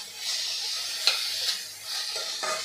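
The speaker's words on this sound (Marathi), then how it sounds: "छोटासा 1 टोमॅटो पिकलेला एकदम बारीक कट केलेला, हा सुद्धा यामध्ये परतून घ्यायचा आहे" Finely chopped ripe tomato and chili sautéing in a pan for jowar upma, a soft steady sizzle with faint stirring scrapes and a couple of light utensil taps close by.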